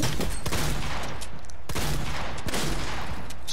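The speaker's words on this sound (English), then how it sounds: "Just took my shotgun shot." Gunfire in a multiplayer shooter video game, several sharp loud shotgun-like blasts spaced apart over a noisy, crackling background, with no talk.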